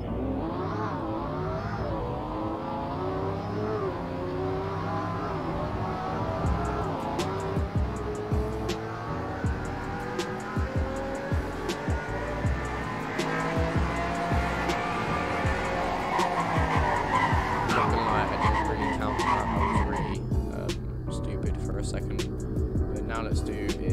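A 2007 Panini Ostro in Roblox Greenville accelerating to top speed in normal drive mode, a continuous engine drone rising through gear changes, loud and steady for the whole stretch, with faint clicks.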